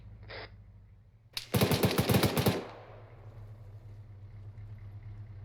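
Machine gun fire in the ArmA 3 video game: a brief shot, then a loud rapid burst of about a dozen rounds lasting around a second, trailing into a low rumble.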